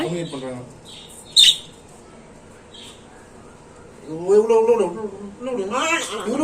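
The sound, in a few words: two pet parrots squawking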